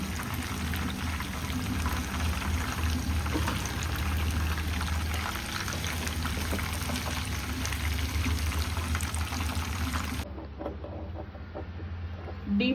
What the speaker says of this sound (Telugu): డీప్ ఫ్రై చేసిన ఆయిల్ అంతా తీసేస్తున్నా అండి.